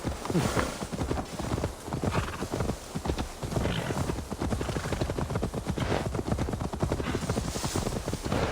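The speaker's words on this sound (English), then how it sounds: "Now to deliver Magni his horse" Horse hooves clip-clop steadily in the video game Assassin's Creed Valhalla while a horse is ridden to be delivered; a continuous close rhythmic patter of hoofbeats runs the whole time over a dense game soundscape, without speech.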